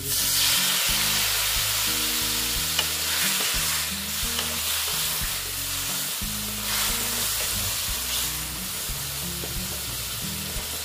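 A squash and potato curry cooks in a pan with a drop of water, producing a steady, dense sizzling hiss that holds throughout, while background music plays underneath and no one speaks.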